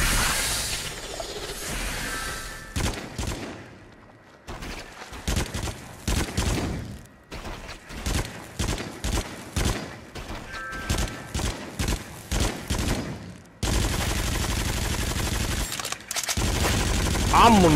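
Gunfire in the horror video game Until Dawn, with bursts of rapid shots and sharp repeated cracks over game ambience, loud and close, interspersed with brief quieter gaps.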